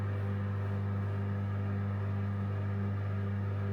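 A microwave oven running with a steady low electrical hum and fan whir, an even drone that holds unbroken throughout, with no voices.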